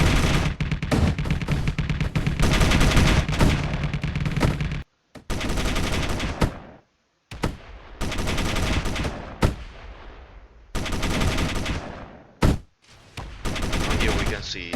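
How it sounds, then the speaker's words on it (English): Missile turrets on a warship in the Space Engineers video game fire on their own ship, loud continuous rapid gunfire broken by short abrupt silences, then further dense bursts. "Here we can see the missile turrets doing what they like, shooting their own ship"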